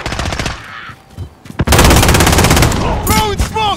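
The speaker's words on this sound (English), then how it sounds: "Friendly sentry gun deployed." Rapid automatic gunfire from a deployed sentry gun in a multiplayer first-person shooter, loud and sustained with dense repeated bursts, joined by other battle effects and brief radio-style voices.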